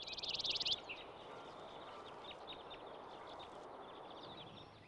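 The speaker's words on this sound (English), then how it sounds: "Its simple trill is a familiar sound." A chipping sparrow gives a brief, rapid, high dry trill near the start, followed by fainter distant chirps from other birds over steady outdoor background noise.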